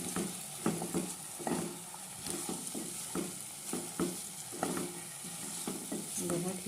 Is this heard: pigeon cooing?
no